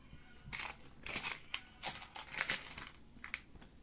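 Old Indian paisa coins clink and tap as they are handled one by one, with a quiet, irregular series of small metallic clicks and rattles in a calm indoor setting.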